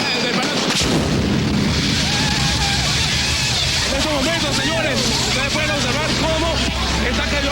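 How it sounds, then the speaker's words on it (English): A bomb dropped from a rebel plane explodes in the heart of Caracas, a heavy boom followed by rolling rumble and crackling debris, with shouting and commotion continuing underneath. "One of the planes actually drops a bomb right in the heart of the city."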